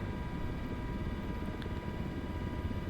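A helicopter flies in toward Lukla airport in the Himalayas, its rotor and engine producing a constant, dense low drone that holds steady throughout without any talking.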